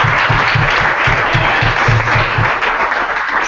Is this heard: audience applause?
yes